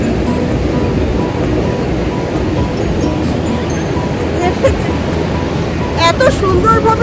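Sea waves break and wash continuously onto the shore, a dense, loud roar of surf mixed with wind buffeting the microphone, with a few faint higher sounds near the end.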